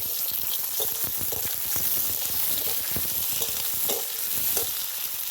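Potatoes and green tomatoes fry in a pan over dried chilli tempering, a steady close sizzle with scattered scraping stirs and soft clinks throughout.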